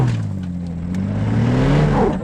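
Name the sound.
off-road SUV engine revving with one wheel spinning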